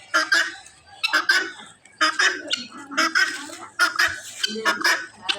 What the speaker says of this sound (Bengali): তিতি মুরগি আছে পাশে আছে তিতি মুরগি